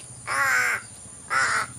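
Two loud, harsh crow caws close by, separated by a short pause, over faint background noise.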